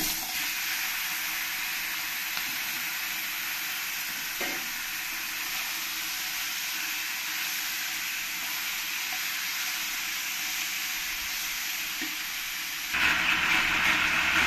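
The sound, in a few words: chicken frying in oil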